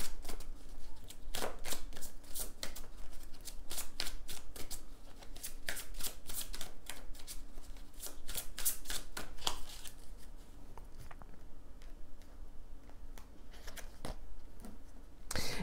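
Tarot cards are shuffled steadily by hand, a close, continuous riffle of rapid papery flicks and slaps lasting many seconds, easing slightly toward the end.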